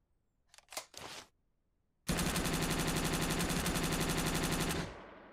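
A few short clattering handling clicks, then a loud, sustained burst of rapid automatic gunfire from a weapon switched to auto mode in the zombie survival video game SurrounDead, ending abruptly with a brief tail.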